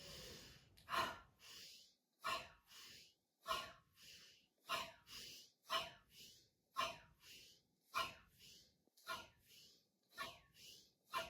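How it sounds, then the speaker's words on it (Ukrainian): A person breathes deeply during an energy-body exercise, with about ten loud, evenly paced inhale-exhale cycles close to the listener, each breath a rushing, airy surge separated by short pauses. "Тож ми робимо тут у нас видих, да? ми робимо вдих."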